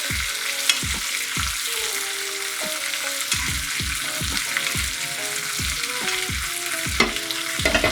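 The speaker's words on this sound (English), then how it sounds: "push the steak forward a little bit, tilt the pan back, and just baste steak" Steak sizzles loudly in a frying pan while being basted, a steady close frying hiss punctuated by repeated sharp spoon and pan clinks at an irregular rhythm.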